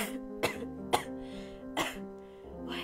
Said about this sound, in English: The words break apart as I start coughing.